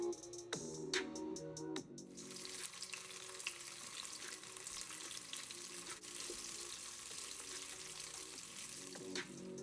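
Tofu fries in hot oil with a steady, quiet sizzle and crackle, following a few clinking utensil taps at the start.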